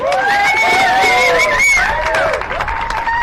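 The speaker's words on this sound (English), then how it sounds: "How about a nice round of applause for the podium here?" A motorcycle racing crowd at the Chuckwalla Valley Raceway cheers and applauds the Bagger Racing League podium finishers, with voices whooping and shouting over scattered clapping throughout.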